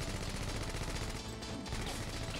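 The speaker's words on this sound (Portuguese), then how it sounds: "trocou tiro novamente em lugar aberto, levando bala de graça" Video-game gunfire trading in an open area, a dense run of rapid shots and bursts with a brief lull partway through, loud and continuous.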